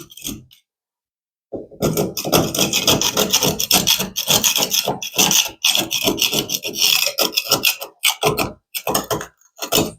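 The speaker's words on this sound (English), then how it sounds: "I've learned not to talk while I'm scraping because only the scraping shows up on the video" Old glue being scraped off a wooden cornice: steady, close rasping strokes in rapid bursts, broken by a few short pauses, with no talking.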